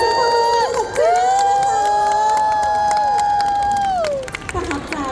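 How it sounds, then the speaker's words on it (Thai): An audience at a live talk-show stage event in a shopping mall cheers and applauds loudly and steadily, with a sustained tonal voice or music line riding over the crowd noise before it fades at the end. "ขอเสียงปรบมือกับเจน่า"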